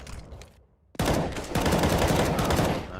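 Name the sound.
gunfire in video game Counter-Strike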